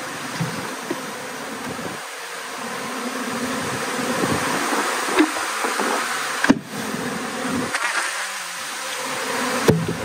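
Honey bees swarm around opened hive boxes during splits in a commercial beekeeping operation, a constant close buzzing broken by a few knocks and clunks of equipment.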